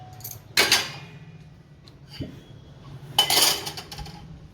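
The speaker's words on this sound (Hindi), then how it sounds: "रात का धोया हुआ बर्तन जो आज मुझे सरियाना पड़ रहा है" Washed dishes from the night before being put away in a home kitchen: two bursts of clinking pots, plates and utensils, separated by a quieter gap with a low background hum.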